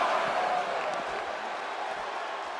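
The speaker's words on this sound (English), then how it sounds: "The sound of this crowd is deafening, and he's asking for more" A roaring wrestling crowd cheers loudly and continuously in an arena, a dense wall of voices that starts strongest and eases slightly while staying sustained throughout.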